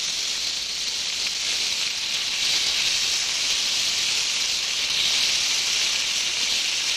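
Small rolled veal involtini searing in a hot pan, a steady, close, bright sizzling hiss that holds evenly without a break, no voices over it.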